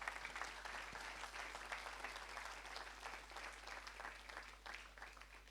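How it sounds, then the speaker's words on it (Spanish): A church congregation applauds during a sermon, a steady, dense wash of many hands clapping at once that stays fairly faint and even throughout. "Dale un aplauso al Señor por eso."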